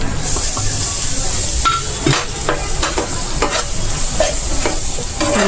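Spice masala of turmeric, red chilli powder, coriander powder and kitchen king masala sizzles loudly in a hot pan while a spoon stirs and scrapes it, with repeated clinks against the pan.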